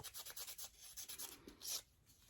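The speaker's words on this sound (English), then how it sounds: "I'm sanding a deer butt." Quiet, rapid rubbing strokes of sanding gold paint on a small deer figure, close up, in short rhythmic bursts with a brief pause near the end.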